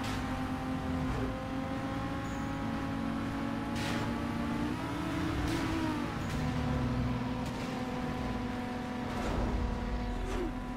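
A car engine in the Need for Speed Most Wanted (2005) video game drag race drones steadily at full throttle, its pitch climbing partway through, with no talking.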